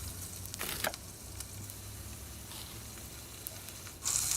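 Pork frying in a pan gives a steady, moderately loud sizzle with soft crackles throughout, swelling into a brighter hiss near the end.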